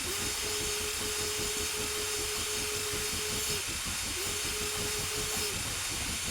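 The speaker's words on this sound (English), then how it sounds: "So we blow the whistle and see what that sounds like." A steam locomotive whistle in Train Simulator 2019 on a freeware route, two long sustained blasts with a short gap between them over a steady hissing, rumbling engine background.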